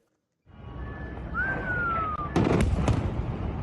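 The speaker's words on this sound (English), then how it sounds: "These latest airstrikes on Syria may help keep that coalition together" Explosions from airstrikes on Syria: a distant whistling tone, then a sharp cluster of loud bursts and booms over a rumbling background.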